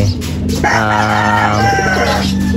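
Rooster-like crowing and clucking from birds kept in a crowded racing pigeon loft in Gerona, Tarlac, loud and close with a steady background hum, no speech.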